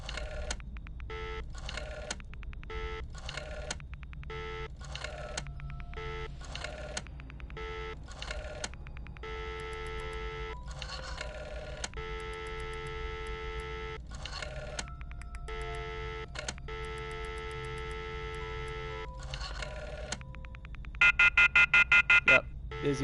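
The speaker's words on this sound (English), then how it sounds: "I think you usually get a busy signal now." A telephone busy signal sounds in the Friday the 13th virtual cabin game as a steady run of repeating tone pulses, with a closing burst of sharper beeps and a voice talking over it.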